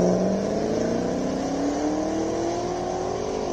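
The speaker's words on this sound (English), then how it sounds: "we see a Corvette making its way to the start line" A Corvette sports car at the Simola Hillclimb rolls toward the start line, its engine note climbing steadily in pitch as it accelerates. The sound is loud, close and continuous, with no talking.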